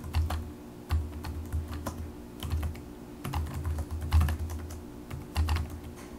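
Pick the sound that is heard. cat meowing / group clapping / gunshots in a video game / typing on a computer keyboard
typing on a computer keyboard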